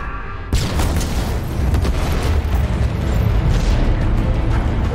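Explosion of a destroyed gun generator in the Halo Infinite game: a sudden loud booming blast that kicks in after a short quiet start and rolls on as a sustained, rumbling roar to the end.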